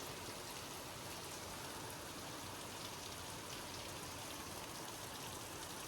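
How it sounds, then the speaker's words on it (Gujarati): Faint, even hiss of steady morning rain falling in a Gujarat village, continuous and unbroken with no voices. "થોડોક વરસાદ પણ વધી ગયો છે"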